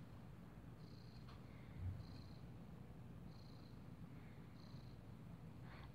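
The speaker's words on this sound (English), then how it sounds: "this was just me trying to capture his purring" A house cat purring close to the microphone, a soft, steady, low rumble that continues unbroken for several seconds, with faint high tones in the background.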